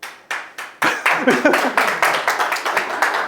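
An audience at an investment presentation claps: a few scattered claps, then a fuller burst of rhythmic clapping that continues in quick, steady beats.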